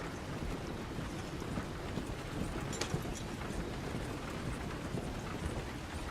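Horse hooves clop steadily in the video game Red Dead Redemption 2, quiet and continuous under a wash of wind-like ambient noise.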